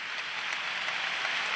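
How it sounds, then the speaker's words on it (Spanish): Applause from a full sports arena at a 2016 Spanish basketball Supercopa as players are honored, a steady, even roar of clapping heard from a distance without a break. "reciben el aplauso de todo el pabellón"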